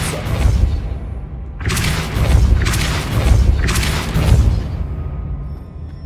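Three loud, booming Depulso spell blasts in Hogwarts Legacy, each a forceful burst with a rushing tail, spaced about a second apart after an earlier softer whoosh.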